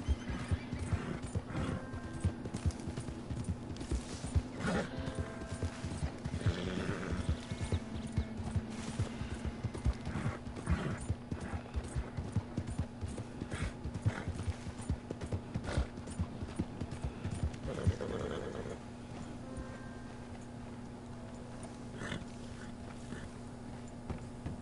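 A stuck horse neighs and whinnies over steady clip-clop of hooves, with a constant low hum beneath, continuing for most of the stretch before quieting near the end.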